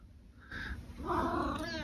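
A small cat meows in a cold room in winter, giving a faint, close, drawn-out cry that rises into a stronger, more strained meow over a soft background hiss.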